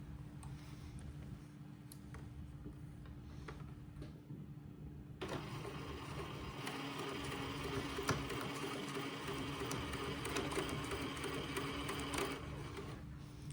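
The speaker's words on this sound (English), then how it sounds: "I'm sewing over my pins this time" A domestic sewing machine stitching fabric over pins, a soft low whir that starts about a third of the way in and then runs as a steady mechanical hum with faint ticks, no talking.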